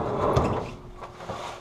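Wooden drawer of sandpaper sliding open in a workshop, a short rumbling scrape with a soft knock partway through, close and moderately loud.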